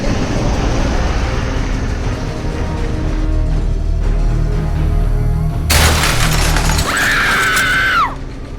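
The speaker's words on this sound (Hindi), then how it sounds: "बस नहीं रुकी और सीधी जाकर खाई में गिर गई।" A bus with failed brakes plunges into a ravine in a dramatized sound effect: a loud low rumble builds, then a sudden crash of shattering and screeching metal erupts, followed by a sharp fading screech.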